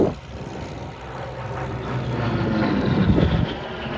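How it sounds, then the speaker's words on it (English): A Bearcat piston-engine warbird passes at an airshow, its broad roar swelling steadily and peaking near the end, mixed with wind buffeting on the microphone. "the Bearcat still now holds the current piston engine world speed record"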